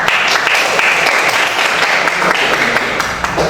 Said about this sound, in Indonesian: terima kasih tepuk tangan buat Iqbal ya.